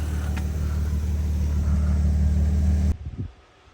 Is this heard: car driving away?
yes